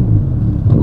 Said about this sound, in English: this is what a twin turbocharged V8 engine now sounds like